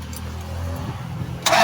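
A Mazda Bongo J3 engine cranks briefly and then catches, with a low starter churn leading into a sudden louder burst as the motor fires, heard close up during an aircon wiring check.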